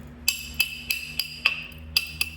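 Jasper being flintknapped, with about eight sharp, ringing stone-on-stone strikes in a fairly steady rhythm, close and bright, each tapping off quickly with a faint glassy ring.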